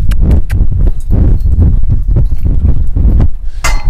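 Horse hooves thud on soft ground in a quick, uneven loping rhythm as the animal turns, close and loud, with a brief rustle at the end.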